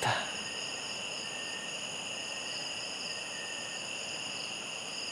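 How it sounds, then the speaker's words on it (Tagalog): Steady, dense chirping of many crickets fills the night air at a campsite in Daraitan, Tanay, Rizal, continuous and unbroken, with no voices. "Puro kuliglig lamang ang naririnig natin."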